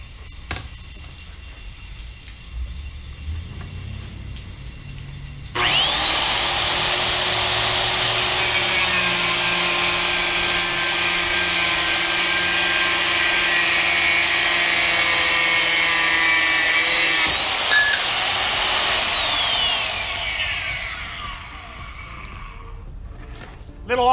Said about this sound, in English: We're gonna cross cut a porcelain plank and see how clean this miter looks.